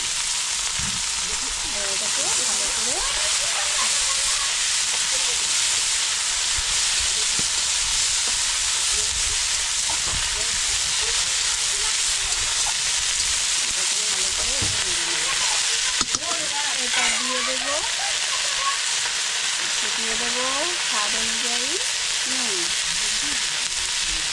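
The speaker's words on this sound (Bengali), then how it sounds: "এই দেখো মূলো শাক আর এই যে কাঁচা লঙ্কা চিড়ে দিয়ে দিয়েছি" Radish greens with slit green chillies fry in hot oil, a steady dense sizzle that runs throughout at close range, with occasional stirring scrapes and a faint voice underneath.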